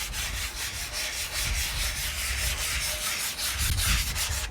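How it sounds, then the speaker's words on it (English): Fresh sandpaper rubs back and forth across old wood veneer on a vintage stereo speaker cabinet, taking off the finish in steady, close, continuous strokes. "That's just the sandpaper pulling off the top layer."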